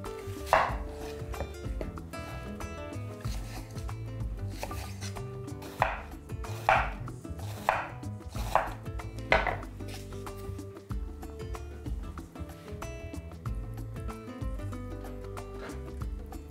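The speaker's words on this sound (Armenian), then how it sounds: "Այդ ընթացքում կտրատենք սոխը։" Knife chopping an onion on a wooden cutting board set on a damp towel, repeated steady chops in an irregular rhythm over background music, close and fairly quiet.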